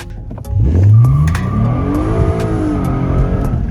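A Lexus IS350 on new wheels and tires accelerates hard while its tires slip. The engine note climbs loudly over a few seconds and stays close and steady, with no voices.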